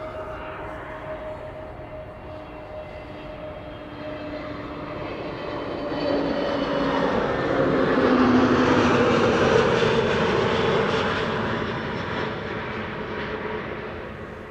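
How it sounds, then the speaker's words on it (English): An EasyJet airliner arriving from Bristol at Amsterdam Schiphol roars past, its jet engine drone rising to a broad loud peak midway, then easing off, heard alone from a distance. "EasyJet arriving from Bristol"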